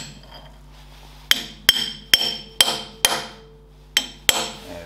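A hammer strikes a punch to bend a lock tab on the front axle of a Ferguson TED20 tractor, giving seven sharp metallic blows in an uneven rhythm after a quiet start, each ringing briefly.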